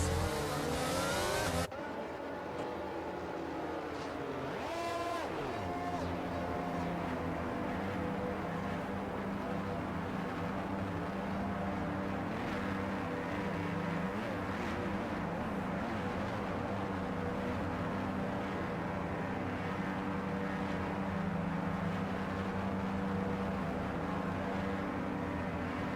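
F1 cars on the formation lap in the F1 22 video game keep up a continuous loud engine drone with rising and falling revs from several cars, close and sustained, while a voice talks over it.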